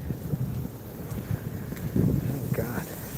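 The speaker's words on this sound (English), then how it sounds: "And it is windy as all heck." Strong wind buffets the microphone while driving through the Bronx in New York City, a continuous low rumbling roar with gusty surges that fills the whole stretch.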